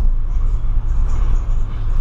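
VW Polo driving along a potholed street, a steady low road and engine rumble from inside the car with uneven thumps as it jolts over the holes.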